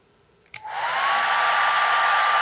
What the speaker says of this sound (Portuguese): o secador está funcionando e o inversor ainda está funcionando